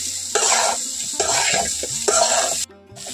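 Young jackfruit pieces fry in hot oil in a pan while being stirred, with a steady sizzle under repeated scraping strokes that cut off abruptly near the end.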